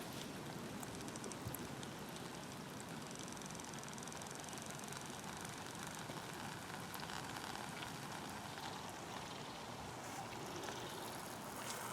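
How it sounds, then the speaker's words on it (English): A flameless ration heater reacting inside its packet while cooking gives a steady, close fizzing and bubbling hiss that runs unbroken for the whole stretch, with no talking over it. "And it should start reacting soon. There we go, it's starting to bubble here"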